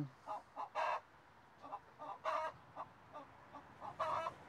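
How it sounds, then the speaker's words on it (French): Chantecler hens clucking in short, repeated bursts with a few louder squawks, close by, no talk. "Des belles poules toutes blanches qui deviennent toutes brunes."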